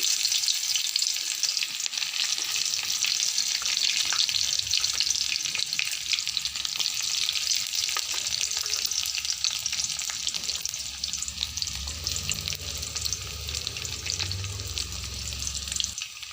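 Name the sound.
panch phoron and bay leaf frying in hot oil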